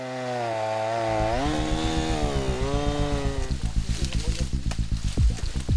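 A chainsaw cuts a dead tree that fell onto a fence around a mountain ginseng farm in the hills, its engine whining and rising in pitch before settling into loud, rapid, rough cutting.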